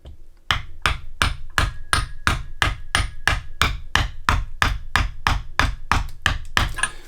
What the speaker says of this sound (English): I'm just going to tap that on with a hammer